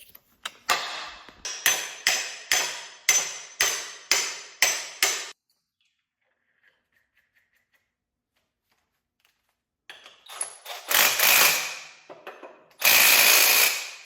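Impact wrench working on an E30 M3 drivetrain, rapid hammering bursts in a close, loud series, then a pause and further short rattling blasts near the end.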